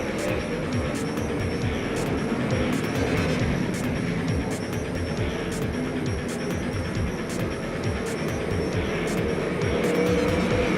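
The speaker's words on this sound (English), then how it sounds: "The Golden State Sprint cars are racing." Sprint cars race on a dirt track, a dense, continuous roar of several engines at full throttle with steady rapid pulsing, loud and unbroken, with no voices over it.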